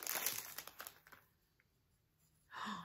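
Plastic package wrapping is crinkled and torn open close by in a few quick crackling bursts, followed by a near-silent pause and then one more short rustle.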